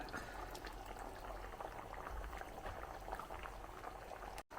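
Jaggery syrup with a little ghee bubbles softly as it thickens in a pan: a faint, continuous boil with small pops and no voices.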